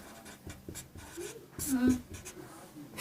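Pen or chalk scratching out a right-triangle solution for a Class 10 heights-and-distances maths problem, short strokes repeating through the clip with a voice speaking faintly underneath.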